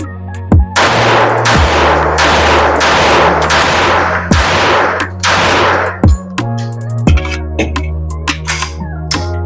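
A Kimber Custom LW 1911 .45 ACP pistol firing at close range, a string of loud sharp shots with ringing tails, spaced irregularly, then quieter clicks and handling noise.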